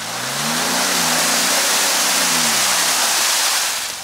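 Off-road vehicle engine revving hard while stuck in mud, a loud, sustained roar climbing and falling in pitch with splashing, churning noise over it, no voices.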